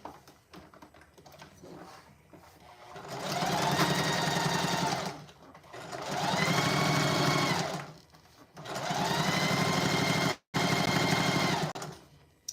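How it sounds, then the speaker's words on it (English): A sewing machine stitches a basic tote bag with a pink lining in black thread, running in three steady bursts of several seconds each, separated by short pauses, close and clear. "I am sewing a basic tote bag"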